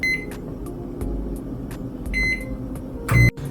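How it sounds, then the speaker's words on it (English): A microwave oven hums steadily while melting butter in a measuring cup, a low continuous drone with faint beeps, ending in a brief louder burst, likely the door or beep, close by. "I put it in the microwave for about 15 seconds."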